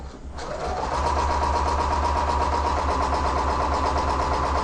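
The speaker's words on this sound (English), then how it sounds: "turn it around, and sew 1/4 inch the other side of the line." Close and loud, a sewing machine runs steadily for a few seconds, stitching a quilt block a quarter inch from a marked line with a continuous fast mechanical whir.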